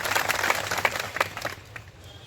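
Applause from a gathering of farmers in a Junagadh village, welcoming Dayabhai Gajera of a farmers' struggle committee: short scattered clapping that peaks early and thins out within a couple of seconds.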